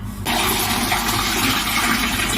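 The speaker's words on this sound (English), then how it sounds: "I'll just add the water to slightly cover the potatoes" Water runs steadily into a large cooking pot of peeled potatoes, a continuous gushing pour heard up close with no talk over it.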